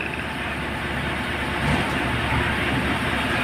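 Mitsubishi 6D24 diesel engine driving a generator, its crankcase oil mixed with water, idling with a steady dense low rumble and mechanical clatter close to the microphone, without speech.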